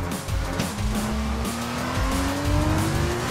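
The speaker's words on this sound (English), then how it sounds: "So easy to lock a front." An F2 race car braking downhill into a hairpin, its engine note sliding steadily upward while a continuous tyre squeal from a locking front wheel rides over it, loud and close throughout.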